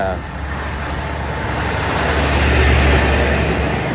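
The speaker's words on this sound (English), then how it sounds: "there's a lot of traffic out here on these streets right now" Busy street traffic with loud cars makes a continuous roadway roar that swells slightly midway, with no distinct single pass-by standing out.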